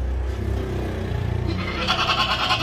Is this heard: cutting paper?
no